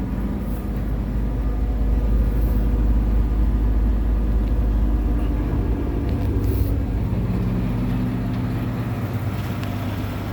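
A 1951 Chevy 6400 truck idles with a steady low engine rumble as its PTO-driven dump bed engages, the tone shifting and settling into a loaded drone partway through, close and continuous with no talking.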